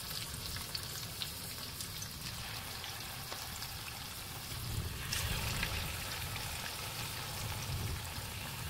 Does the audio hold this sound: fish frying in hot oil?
yes